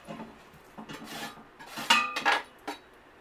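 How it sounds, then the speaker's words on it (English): Chicken pieces go into a large metal pot, with several clanking knocks and scraping metallic contacts, the loudest bunched near the middle, heard close and with no talk. "I'll put all my chicken in there."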